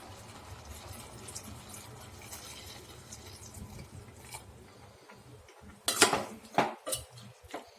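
Water poured into a cooking pan while making an oyster mushroom dish, a steady rushing fill followed by a few sharp clinks of the pan and utensils near the end.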